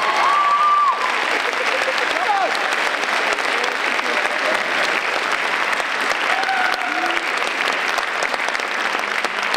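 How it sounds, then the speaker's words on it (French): A theatre audience at a 2014 stage show claps loudly and continuously, with a few faint voices and whistles rising over the steady applause. "Je les applaudis bien fort."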